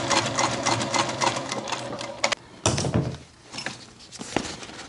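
A sewing machine basts the top edge of a shoulder bag lining, close and loud, its rapid rhythmic stitching broken by a pause and a couple of sharp thunks before it resumes briefly.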